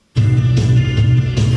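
Electric guitar plays a riff, loud and close, with steady repeated strummed chords and no talking.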